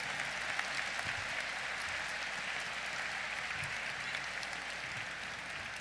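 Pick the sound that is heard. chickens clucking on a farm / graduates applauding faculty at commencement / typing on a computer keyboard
graduates applauding faculty at commencement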